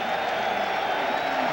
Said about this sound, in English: A derisive cheer from the fans that he formerly played for.